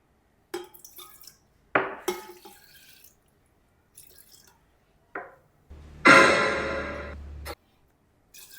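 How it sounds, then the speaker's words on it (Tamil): Water poured by hand into a container during a home game: a dense, splashy pour of about a second and a half near the end, after several short clinks and knocks, with no one talking. "தண்ணி கீழே சிந்தாமல் உள்ளே ஊற்றணும்."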